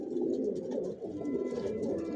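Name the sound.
pigeons cooing in a racing pigeon loft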